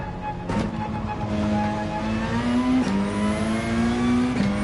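A BMW M5 or M6 in Gran Turismo 7 accelerates hard through several gear shifts, the engine tone climbing repeatedly and dropping at each change, loud and steady with no talk.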